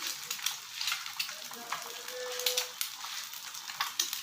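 An egg frying in a pan gives a soft, crackling sizzle with small irregular pops, steady and fairly quiet throughout.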